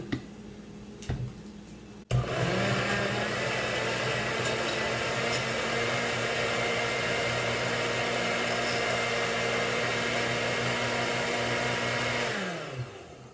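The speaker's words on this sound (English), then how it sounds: "my blender's a little bit puny, so I have to stop it and poke things down" A small, underpowered kitchen blender chopping cabbage, its motor starting abruptly after a few clicks and running in a steady droning whir, close and loud, before spinning down at the end.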